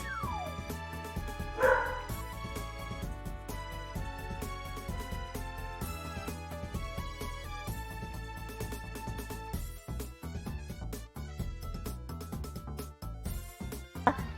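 A loud dog barks and yips a few times over steady music, with a brief whimper, the barks close and sharp against the continuous background.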